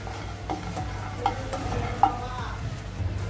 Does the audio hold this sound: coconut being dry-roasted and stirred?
yes